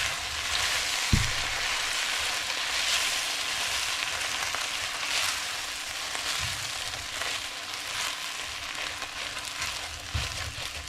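Rice meal being stirred in a hot pan, a steady close sizzle with scraping and mixing rustles and a few sharper knocks of the utensil against the pan.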